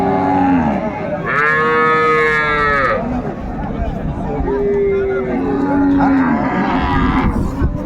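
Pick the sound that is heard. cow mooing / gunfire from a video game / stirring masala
cow mooing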